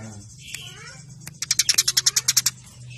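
House sparrows chirp in a quick, even run of about a dozen bright notes close by, after a brief voice and a few scattered calls at the start.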